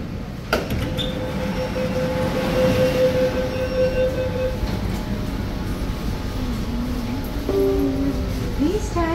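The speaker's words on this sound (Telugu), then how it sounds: "under ground metro" Underground metro train in Kolkata running steadily with a constant rumble and tonal whine, a sharp clunk near the start and a rising squeal of wheels or braking toward the end; faint voices mix in.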